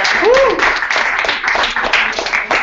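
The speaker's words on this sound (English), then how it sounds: "So, round of applause for them." An audience at a fall election town hall applauds in a steady, dense wash of clapping that fills the whole stretch at close, even loudness, with a brief voice or whistle-like cry near the start.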